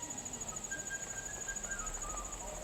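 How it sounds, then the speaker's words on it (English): A grasshopper chirps in a garden over a faint, steady insect drone with a high constant buzz, soft and distant-sounding, with no voices. "Ooh, young grasshopper."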